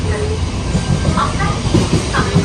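Vande Bharat train running on rails, a loud continuous rumble with rhythmic clatter and hiss heard from inside, with faint voices under the noise.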